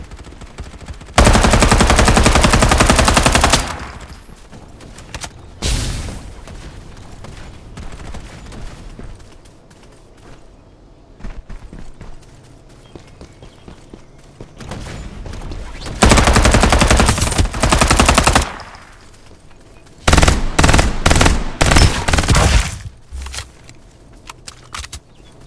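Automatic SMG fire in the battle game Farlight 84, loud close bursts of rapid shots in several long volleys separated by quieter gaps with footsteps and movement.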